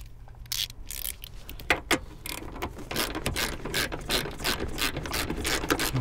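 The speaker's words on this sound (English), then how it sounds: "we can just tighten this bolt all the way back the way it was" A hand ratchet with a size 14 socket tightens the seat belt bolt on a Honda Civic, rapid clicking pawl strokes in quick repeated bursts, close and crisp with no voices.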